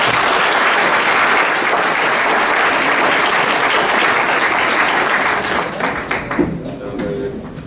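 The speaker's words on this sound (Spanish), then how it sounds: "Un aplauso," A conference audience applauds a speaker with sustained, dense clapping that fills the room, then thins into scattered claps as it fades at the end.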